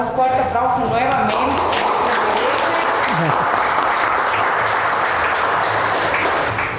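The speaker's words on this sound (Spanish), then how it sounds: "Le vamos a dar un fuerte aplauso nuevamente." An audience at a book launch breaks into loud, sustained applause that fills the whole stretch steadily, with voices mixed in beneath the clapping.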